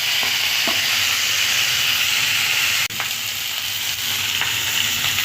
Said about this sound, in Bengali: এখানে আমি রান্না করছি চিকেন আর এখানে আছে গরম জল